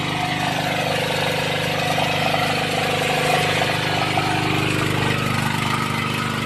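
A small generator engine runs steadily, powering a water pump, with a constant mid-pitched hum and chug that stays close and even throughout, with no talk.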